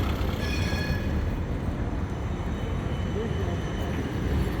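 A train rumbles past steadily at night in Lisbon, a continuous loud low roar of railcars with faint tonal whine, no talking.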